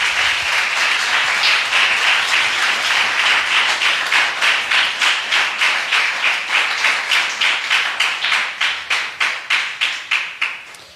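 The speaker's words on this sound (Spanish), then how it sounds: "Dele un aplauso al Señor." A church congregation claps for about eleven seconds, starting as dense overlapping applause and settling into loud, steady rhythmic clapping in unison near the listener.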